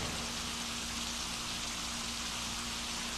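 Heavy, dense rain falls after a storm, big thick drops pattering steadily and loudly on surfaces as a continuous wash with a faint low hum underneath, no voices.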